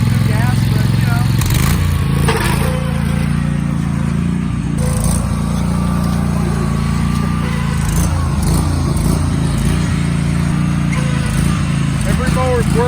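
A garden tractor engine that had sat unused for a long time runs steadily while driven around off-road, with a constant low chugging drone and occasional clatter, close by and loud throughout.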